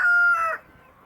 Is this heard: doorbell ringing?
no